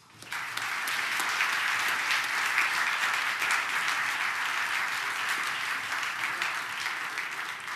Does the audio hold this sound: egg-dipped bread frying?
no